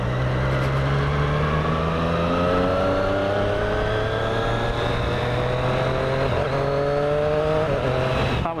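A 2017 Triumph Street Triple 765 RS three-cylinder motorcycle pulling hard through a steady rising engine whine, loud and close, with a brief stumble near the end as a quick shift misses.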